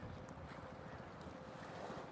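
Wind buffeting a microphone at a ferry pier on Khao Takiab beach in Thailand, a steady low rumble with faint sea wash underneath, no talking.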